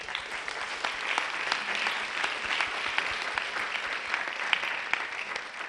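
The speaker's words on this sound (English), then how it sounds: "give one more round of applause" Audience applause at the closing keynote of the AVPN conference, a steady sustained clapping from a large crowd that fills the room evenly from start to finish.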